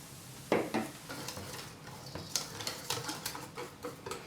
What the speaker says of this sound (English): So just put some beer in there, add a little bit more, stir it up until it gets what you're looking for.